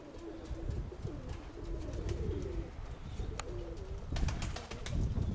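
Several pigeons coo in low burbling phrases nearby, with occasional wing flutters and scraping sounds around them.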